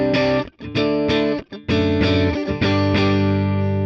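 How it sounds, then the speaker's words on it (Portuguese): Electric guitar played through a Vox AC30 amp model on an Ampero Mini, slightly saturated, neck pickup, compressor and reverb off: loud strummed chords in a choppy rhythm with brief gaps, ringing and full, alone. "Eu vou desligar o compressor e vou desligar o reverb para vocês sentirem só o som do amplificador"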